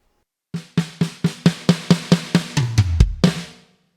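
Drum fill on a drum kit, a steady run of about a dozen evenly spaced hits that speed up at the end into heavier low drum strikes and a closing crash, played alone and close.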